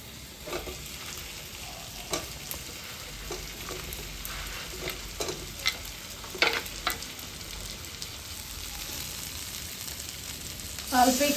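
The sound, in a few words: fried soybean chunks stir-fried in oil in a pan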